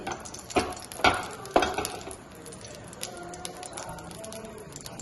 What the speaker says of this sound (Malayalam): ഇപ്പൊ നെയ്യിലൊന്ന് നമുക്ക് ഇതൊന്ന് റോസ്റ്റ് ചെയ്ത് കൊടുക്കാം